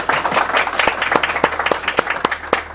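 Audience at a conference stage event bursts into applause, a dense burst of many hands clapping, loud and close, with sharper individual claps standing out over about three seconds.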